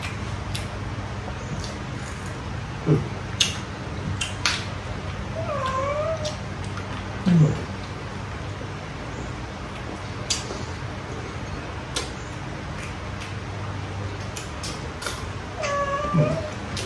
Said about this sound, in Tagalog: Ang pusa.